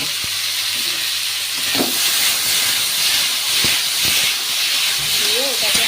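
Elephant foot yam stems frying in oil in a home kitchen, a steady close hiss and sizzle running throughout with a few brief clatters.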